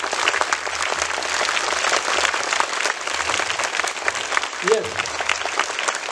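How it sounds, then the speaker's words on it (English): School audience of parents, staff and well-wishers at a Republic Day celebration applauding merit certificate achievers, steady loud clapping throughout with a brief spoken word near the end. "that is the way you have to show when you are applauding somebody"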